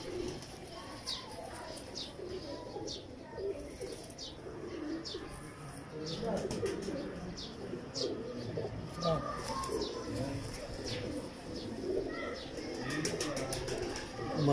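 Soft, low pigeon coos repeat steadily throughout, with sharp chirps and ticks above them and faint voices and background bustle in an outdoor pigeon loft.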